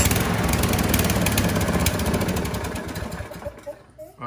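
A Craftsman Briggs & Stratton 6.75 lawn mower engine runs rough and uneven with a misfire, sputtering and knocking loudly up close, then falters and nearly dies at the end.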